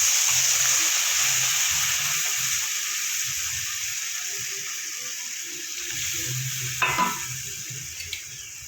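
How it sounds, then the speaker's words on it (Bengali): Potatoes fry in a pan with poppy seed paste, cumin and green chili, giving a steady loud sizzle that eases slightly over time, with occasional stirring scrapes and a clink near the end. "নুন হলুদ দিয়ে আলুটা আমার কিছুটা ভাজা হয়ে গেছে"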